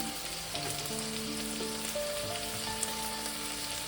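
Tomato with salt frying in spiced oil in a pan for a mushroom and potato curry, a steady close sizzle and crackle throughout with no voices.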